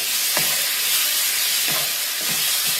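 Beef with spices frying in a pan, a dense, loud sizzle with a few soft stirring knocks, close and constant, with no speech.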